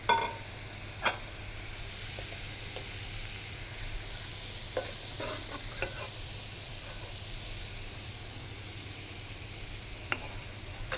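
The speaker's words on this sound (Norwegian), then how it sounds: "Nå hører man lyden av panna, at nesten all væsken er fordampet." Vegetables steam in a pan as the liquid boils away: a continuous soft sizzle with scattered light clicks and taps over a low hum, close and fairly quiet, no talking.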